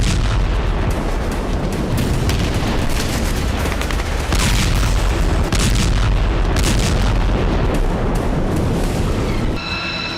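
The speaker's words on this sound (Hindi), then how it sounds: "जबरदस्त बमबारी की" Relentless booming of US air strikes around Sanaa, Yemen, a dense continuous roar of explosions and rumbling blasts with no pause, loud throughout.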